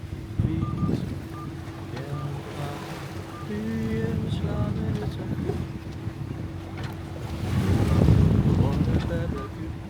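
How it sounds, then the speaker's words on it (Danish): Sea waves slap against a sailing boat out at sea on a windy passage toward Cuxhaven, a steady wash with wind buffeting the microphone, swelling louder near the end, while people talk over it. "der kommer lige en bølge en gang imellem"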